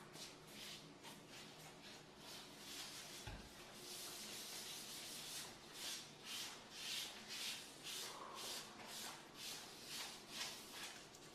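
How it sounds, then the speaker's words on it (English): Sealer being rubbed by hand into a granite island countertop, steady rhythmic swishing strokes that repeat back and forth, close and soft, with no one talking. "Seal the island again, applying liberal amount, rubbing it into the edges,"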